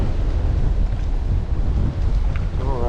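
Wind buffets the microphone on a fishing boat on a windy day, a steady low rumbling gust that rises and dips, with faint water sounds in the background.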